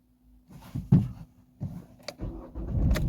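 A Vauxhall 1.7 CDTI diesel engine with a glow plug module fault cranks and fires, a few short bursts of starter and engine noise building into a steady running rumble, close by and with no speech.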